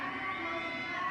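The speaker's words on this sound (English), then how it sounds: "You can hear the crowd egging him on" An esports crowd at a VALORANT Masters match in Santiago cheers and eggs on a player, a sustained, dense roar of many voices heard at a distance without a break.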